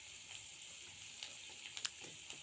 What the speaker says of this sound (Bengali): হালকা ফ্রাই করে নিচ্ছি তারপরে এখানটা হচ্ছে আলু কুচি দিয়ে দিচ্ছি